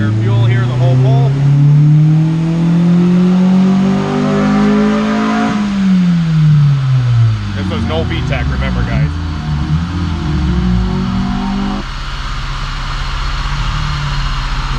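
A Honda CR-V with an all-motor B20V engine revs hard through a non-VTEC pull on a dyno, loud and close, the engine note climbing steadily, then dropping and rising again, with voices talking over it.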